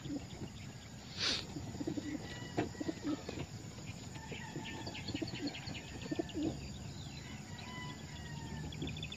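Birds at an outdoor racing pigeon self-toss release site in San Mateo, Rizal, with soft cooing and scattered chirps over steady ambient noise and insect buzz, including one sharper call early on.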